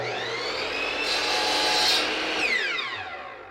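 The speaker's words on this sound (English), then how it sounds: "Now what I'm going to do is cut off our two shelves so that they're 1/4 inch long." Wooden shelves being cut to length with a power saw for a contemporary mirror, a loud close whining cut that rises, holds steady, then winds down as the blade spins off.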